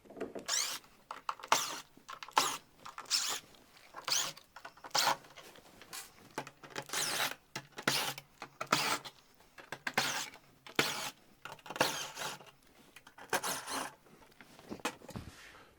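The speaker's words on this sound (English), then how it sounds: "So now we're going to take away the heating cover." Plastic heating cover being worked loose and pulled off the chassis of a Bosch tumble dryer during a repair, giving a run of close, sharp scraping and clicking bursts in an irregular rhythm with no talk.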